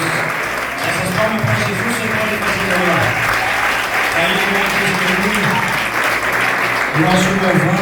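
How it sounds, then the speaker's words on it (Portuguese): Applause from a church congregation fills the space, steady and loud for several seconds, with a voice speaking over the clapping throughout. "Essas palmas para Jesus, você pode fazer agora"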